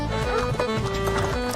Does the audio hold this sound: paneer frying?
no